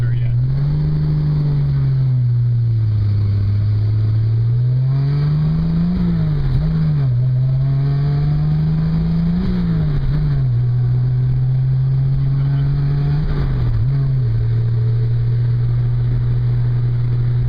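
A 1968 Triumph Spitfire engine runs loudly and steadily as the car pulls away on a not-yet-warm clutch, its low drone rising and dipping through gear changes and throttle shifts with no voices over it.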